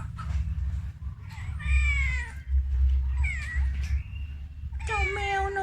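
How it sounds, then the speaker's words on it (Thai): Several house cats meow loudly at feeding time, in a household of six or seven cats. Three drawn-out, wavering meows come close together over a low background rumble. "ก็จะมีอยู่ทั้งหมด 6-7 ตัวนะแมวบ้านนี้"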